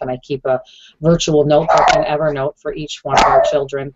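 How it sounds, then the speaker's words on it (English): A dog barks in short yips during a homeschool group chat, the barks sounding close and mixed in and around continuous talking. "That's my dog, sorry."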